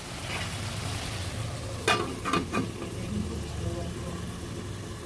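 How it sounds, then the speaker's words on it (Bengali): Bottle gourd greens are stirred in a pan, with a low sizzle and a brief cluster of scraping stirs near the middle over steady background hiss. "ভালোভাবে নেড়ে মিশিয়ে দিচ্ছি আবার কিছুক্ষণ ঢেকে রাখবো"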